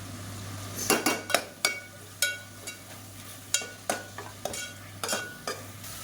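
Mint and coriander are sautéed with ginger garlic paste in a pan for street-style veg bringi. A spatula clinks and scrapes against the metal about a dozen times over a gentle sizzle and a low steady hum, with no talking.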